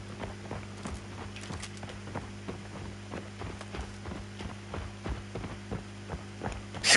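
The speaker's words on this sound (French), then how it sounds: "C'est quoi ces bruits de pas du futur? On dirait qu'ils sont juste à côté de moi." Futuristic footsteps in the video game Highguard tap in a quick, steady series of light, sharp impacts over a constant low hum, close by and fairly quiet, with no talk.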